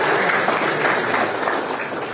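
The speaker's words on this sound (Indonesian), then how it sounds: "Tepuk tangan dulu buat." A school audience of students claps steadily for a short stretch, a dense even patter of many hands that stays at one level throughout.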